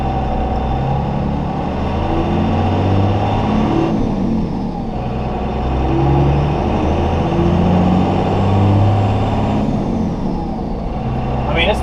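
A Chevrolet Silverado 2500HD with a swapped Cummins diesel engine accelerates in second gear, a loud, steady low engine drone with rising harmonics throughout, and faint voice-like sounds in the cab mix.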